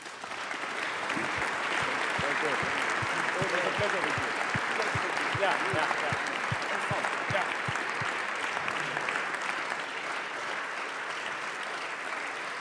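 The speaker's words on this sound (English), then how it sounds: "Let's give our two speakers a round of applause, please." Audience applause at a Munich Security Conference event, a room of attendees clapping for two speakers; the dense, steady clapping lasts the whole stretch with a few voices mixed in early on.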